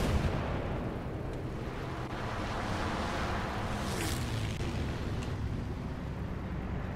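Steady rumbling artillery barrages in the War Thunder tank battle, a dense continuous roar of distant booms and battlefield noise with no speech.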